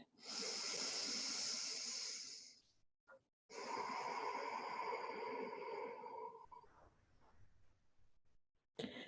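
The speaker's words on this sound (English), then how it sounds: "Take one more breath." Slow, deep breaths during a yoga session, a long close hissing inhale and exhale followed by a fainter trailing breath and near silence.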